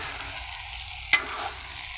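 Ridge gourd frying in a pan for a dish of ridge gourd, egg and lentils, giving a steady close sizzle with one sharp stir or clink partway through and no talking.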